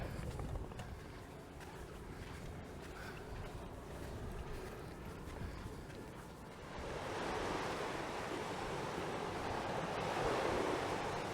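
Surf washing onto the beach at Paignton on the Devon coast, a steady broadband wash that swells noticeably louder partway through, with wind rumbling across the microphone and no talking.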